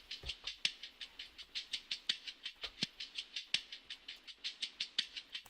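Bright, chopped hi-hat hits repeat in a tight, stuttering loop, evenly pulsing with a few stronger accents, quiet and alone without any talking.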